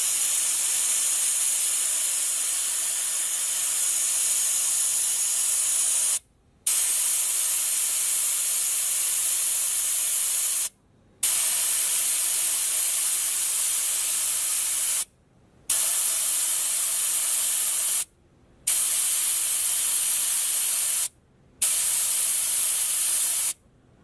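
Steady, loud hiss of air escaping from a 4WD tyre as it is let down to 18 psi, broken by about five short pauses where the flow stops before the rushing hiss resumes.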